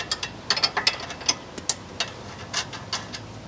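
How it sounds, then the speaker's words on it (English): A 17mm ratcheting wrench clicks quickly and close up while tightening a new sway bar link nut on a 2008 Hyundai Elantra 2.0L, crisp metallic ticks coming in short, uneven runs. "We'll fit our 17mm wrench onto the back"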